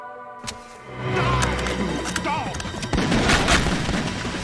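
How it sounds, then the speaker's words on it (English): Revolver gunshot from a Single Action Army in Metal Gear Solid 2: Sons of Liberty, a loud booming report with a sharp transient, followed by sustained rumbling game effects and background score. "The single action army revolver"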